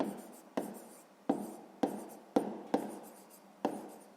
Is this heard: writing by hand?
yes